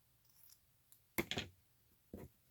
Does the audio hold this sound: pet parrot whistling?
no